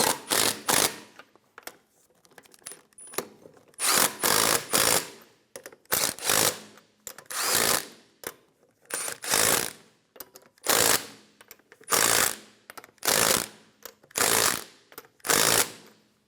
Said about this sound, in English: Snug down the lug nuts.